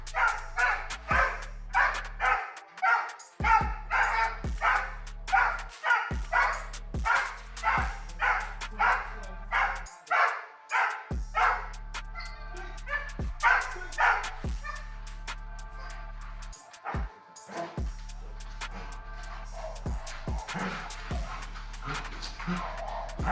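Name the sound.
Doberman Pinscher dog barking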